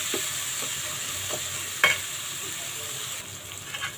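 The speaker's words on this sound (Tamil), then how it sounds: "இஞ்சி பூண்டு அந்த பச்சை வாசனை போகிற அளவுக்கு நல்லா வதக்கிக்கலாம்" Onion, tomato, ginger and garlic sautéing in a pan: a continuous sizzle broken by scattered stirring scrapes and one louder clatter, heard close with no speech.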